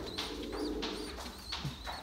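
Several pigeons coo in a home coop, soft repeated throaty calls overlapping over a low steady background, close by and with no voices.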